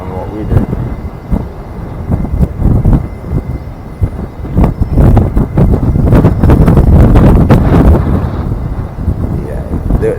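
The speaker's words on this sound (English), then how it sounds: "Wow, the wind is really blowing." Strong gusty wind batters the microphone outdoors near a London stadium, producing loud, uneven rumbling buffets that swell and fade, with a voice speaking intermittently through the noise.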